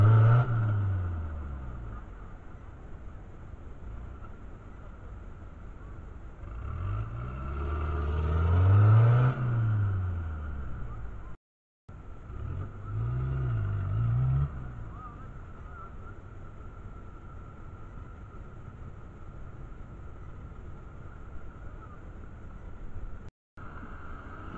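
A 4x4 off-road vehicle engine drones steadily and swells as it revs up and accelerates, close by, with its pitch rising and falling over several surges.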